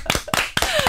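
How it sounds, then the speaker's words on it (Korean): A few sharp hand claps ring out in a radio news talk-show studio as the hosts applaud Olympic athletes, three or four close, crisp claps over about a second. "우리 마지막은 박수 좀 치면서 끝내면 어때요? 선수들을 위해서."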